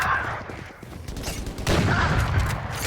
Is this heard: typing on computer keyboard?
no